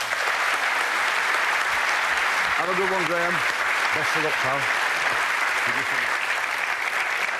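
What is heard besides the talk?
TV studio audience applause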